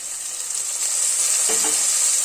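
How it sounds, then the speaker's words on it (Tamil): Onion and tomato sauté in a pan for vegetable biryani with a constant bright hissing sizzle, close and even, joined by a brief stirring scrape midway. "வெங்காயம் நல்லா வதங்கவும் இதோட ஒரு தக்காளி சேர்த்துக்கலாம்."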